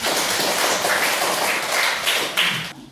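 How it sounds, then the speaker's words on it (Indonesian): Applause for a student group in a classroom: a dense, steady patter of clapping from many hands, fairly loud and close, tapering off at the end. "Mari kita beri aplaus"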